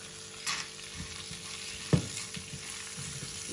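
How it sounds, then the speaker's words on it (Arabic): Cashews, hazelnuts, almonds and walnuts frying in melted butter in a pan, a low steady sizzle broken by a few soft stirring scrapes and one sharper clink. "بقليهم شي بسيط مع بعض"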